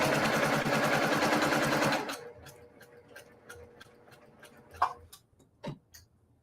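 A sewing machine stitching quilt binding runs fast and steady for about two seconds, then stops, leaving faint clicks and handling noises.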